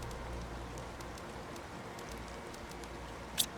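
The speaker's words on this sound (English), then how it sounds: "Oh, it's raining again." Steady soft rain hiss in the video game The Planet Crafter fills the clip at a low level, with faint scattered patter and one brief brighter tick near the end.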